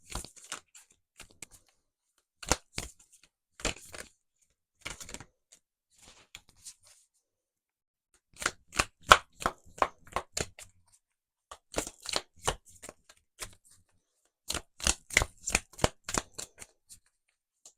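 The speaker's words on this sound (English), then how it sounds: "if you like seeing the shuffling, or if you'd rather I do it beforehand, or like fast forward it" Tarot cards are shuffled in bursts of quick, crisp riffling and flicking, close and clear, separated by short silent pauses.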